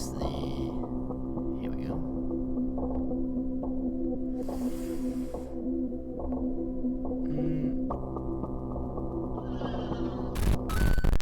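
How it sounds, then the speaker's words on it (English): Horse neighing in the video game PUSS!, with a whinny rising over a busy, droning game soundtrack and a voice talking over it. "Oh god, I hear a horse."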